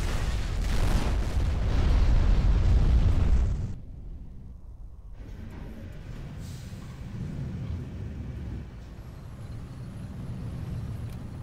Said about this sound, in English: Launching surveillance missile.